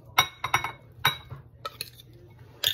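Utensils clink against a bowl while tuna ceviche is tossed with cucumber and tomato, several sharp metallic taps and scrapes in a loose rhythm, close and fairly quiet.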